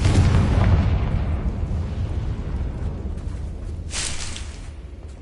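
A Confringo blasting spell explodes in the video game Hogwarts Legacy: a loud, deep rumbling blast that starts at full force and rolls on, with a sharper crackling burst about four seconds in.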